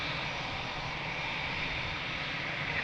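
Airliner engines roar at full power as a plane departs from runway 02 at Lisbon Airport, a steady, broad, distant rumble that holds throughout with no talk.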